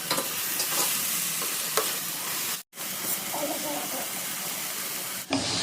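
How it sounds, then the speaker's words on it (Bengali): Jute leaves with onion, turmeric, salt and pre-fried shrimp sizzle loudly in a pan, a steady close hiss broken by stirring scrapes, with a brief pause midway and no talking. "শাক ভাজা হয়ে গেছে"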